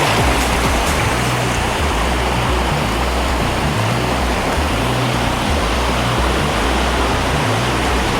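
Ghogata waterfall pouring after the season's first rain, its dense, unbroken roar of falling water loud and close throughout.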